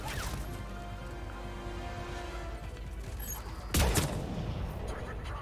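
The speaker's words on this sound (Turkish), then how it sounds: "Yalnız silah hakikaten iyi ya. Tek vuruşta bitiriyor." Gunfire from a weapon in the video game Mass Effect 3: one sharp, loud shot lands mid-clip over a steady bed of in-game background noise.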